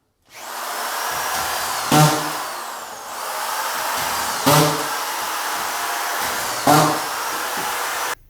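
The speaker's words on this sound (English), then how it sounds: "It's belt fed, so we're going to go through and Gary's going to give that final screw down of all the field screws here" A belt-fed screw gun drives floor screws on a radiant floor heating install, its motor whining steadily while three sharp screw-driving bursts land at roughly two-second intervals, close and loud.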